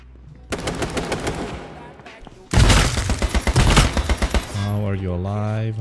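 Rapid automatic gunfire in H1Z1: King of the Kill, a burst of fast shots, then a louder, heavier close-range volley, followed by a voice talking.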